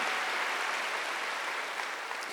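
A church congregation at a Korean Wednesday worship service applauds, a continuous even patter of many hands that holds steady and fades only slightly toward the end, with no voice over it.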